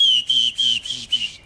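A person whistles an imitation of skylark song while breathing in: four or five short, high, thin whistled phrases separated by brief breaths, close and fairly loud, with no talking.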